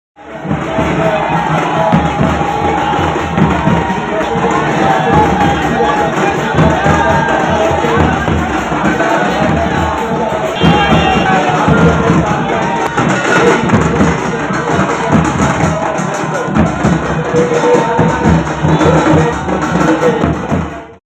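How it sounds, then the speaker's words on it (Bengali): A large crowd of BJP supporters at a Parivartan Rath Yatra rally in Malda shouts slogans against the Trinamool government, a loud, continuous roar of massed voices and cheering with no break. "তারা তৃণমূল সরকারের বিরুদ্ধে স্লোগান দিয়ে আসন্ন বিধানসভা নির্বাচনে রাজ্যে পরিবর্তনের পক্ষে জোরালো আওয়াজ তোলেন"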